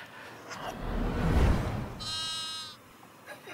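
A sheep gives one clear, drawn-out bleat, loud and close, after a burst of rustling noise, with a faint trailing bleat at the end.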